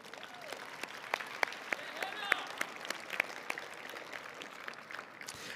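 Audience applause at a state science and technology fair awards ceremony, a fairly faint, sparse round of clapping with distinct individual claps throughout.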